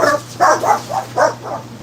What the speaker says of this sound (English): I wonder if they're barking because they heard me groaning.